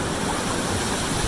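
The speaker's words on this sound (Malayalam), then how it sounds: "പാല് വെള്ളം ഒഴുകുന്ന പോലത്തെ ഒരു വാട്ടർഫാള്" Waterfall pouring steadily at a hidden spot in Payyannur, a dense continuous rushing wash, close and fairly loud with no voices.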